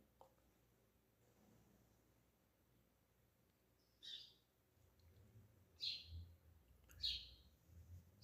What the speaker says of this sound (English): There are birds singing outside.